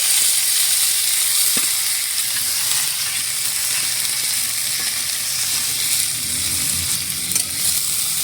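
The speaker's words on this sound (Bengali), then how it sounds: "কড়াইতে একটু হলুদ দিয়ে ধুয়ে রাখা ফুলকপি, গাজরগুলো ভেজে নেব।" Washed cauliflower and carrots fry with turmeric in a hot wok, giving a steady, dense sizzle that holds evenly throughout with no voices.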